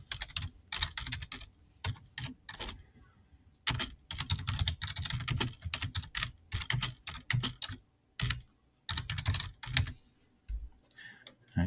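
Someone types a chart title on a computer keyboard, with close, crisp key clicks coming in irregular runs and short gaps throughout, with no voice over them.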